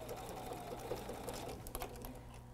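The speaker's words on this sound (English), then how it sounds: "I'm on a BERNINA 770 Quilters Edition today. I'm sewing just a little bit greater than a quarter inch seam allowance" Bernina 770 Quilters Edition sewing machine stitching a quarter-inch quilt seam, a steady close-up mechanical whir of needle strokes running without pause, with a few light clicks and no talking.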